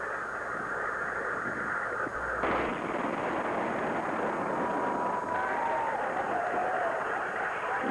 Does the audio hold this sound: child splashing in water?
no